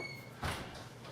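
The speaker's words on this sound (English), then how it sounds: "Door just opened." A door opening indoors, a single short muffled knock and slide near the middle of a brief, quiet moment.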